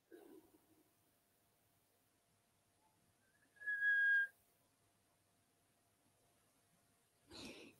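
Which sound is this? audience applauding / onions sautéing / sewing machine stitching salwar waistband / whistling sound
whistling sound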